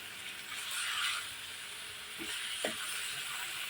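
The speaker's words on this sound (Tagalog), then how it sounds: "So kailangan natin tong magkulay brown muna tong karne" Pork pieces for menudo browning in a hot pan give off a steady, close sizzle with a few soft stirring knocks, no voices over it.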